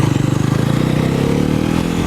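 A 2025 Bajaj Pulsar NS400Z motorcycle engine is revved on the throttle up close, with loud, rapid exhaust pulses that stay strong and steady through a short burst.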